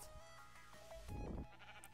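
Sheep bleating in a Minecraft-style creative-mode video game, a short sheep call rising out of a quiet background hum, then fading.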